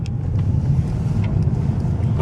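Car driving on a dark road in the early morning before reaching the highway, steady loud low engine and tire rumble with brief faint ticks, continuous without talk.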